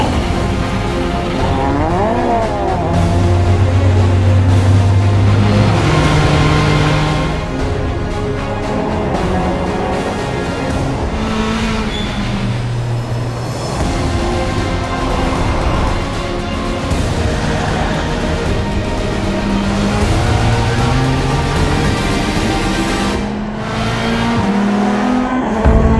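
Volvo S60 Polestar racing a Volvo truck on a circuit, loud engines revving and shifting through gears with rising and falling whines, tire squeal and cars passing close, under a backing music track.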